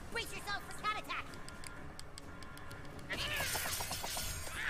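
Cats yowl and meow in a video game as they attack, with sharp clicks and a chaotic burst of noise near the end, mixed under a voice talking.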